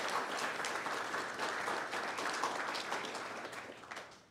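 Steady audience applause for student award winners at a county board meeting, dense and continuous clapping from a crowd, holding even throughout before tapering off slightly at the end.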